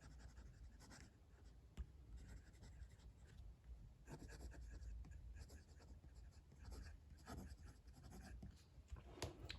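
A Leonardo Momento Zero Grande 2.0 fountain pen, filled with Diamine ink, writes on paper in a faint, close, continuous scratching with small strokes and pauses, and a soft voice can be heard now and then.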